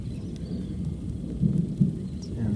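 Afternoon thunderstorm with rain over the Mitchell River in the far north Kimberley: a steady low rumble of rain and distant thunder, with a couple of louder rolling swells toward the end and no voices.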